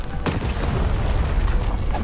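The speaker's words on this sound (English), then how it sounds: "Shoot the button to fire the cannon." A single deep cannon boom in the video game Lost in Random near the start, followed by a continuous low rumble and mechanical noise with no speech.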